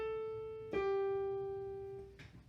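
Keyboard notes moving downward by small steps, struck one at a time with each tone sustained and ringing clearly, played alone and close.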